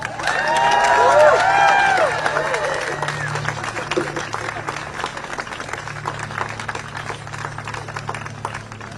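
A rally crowd of students gathered outdoors at Harvard claps and cheers, a loud swell of mixed applause and shouting up front that settles into a steadier, softer clatter of clapping with crowd voices beneath.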